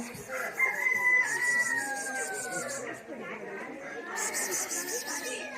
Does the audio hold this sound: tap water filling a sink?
no